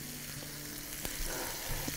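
Garlic fries with a soft, even sizzle in a pan for a cow trotter tagine, with a faint clink of stirring partway through, brief and quiet.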